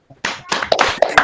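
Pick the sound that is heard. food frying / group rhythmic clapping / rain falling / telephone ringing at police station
group rhythmic clapping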